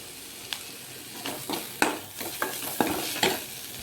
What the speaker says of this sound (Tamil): ஒரு ஆஃப் தக்காளி எடுத்து சின்ன சின்னதாக நறுக்கி அதையும் சேர்த்து நல்லா வதக்கி எடுத்துக்கலாம்